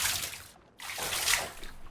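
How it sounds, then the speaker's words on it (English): Water splashes used as sound effects for a Minority Report scene: a bright hissing splash, a brief silent gap, then a second, broader splash that trails off into trickling. "we now have emphasized those bigger splashes with that other sound effect"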